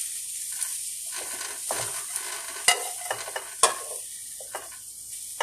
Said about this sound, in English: wanted to run it through the skillet with a little bit of olive oil just to get all those flavors together